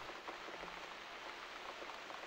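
Steady rain falls in the video game The Cat Lady, a soft, even hiss of drops on surfaces with no talking.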